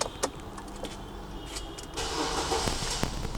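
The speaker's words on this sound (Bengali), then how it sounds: "এখন গাড়িটি আমি স্টার্ট দিয়েছি" A 2012 Nissan X-Trail engine cranks and catches, its start and steady running picking up loudly partway through, with a few sharp clicks from inside the car and no talking.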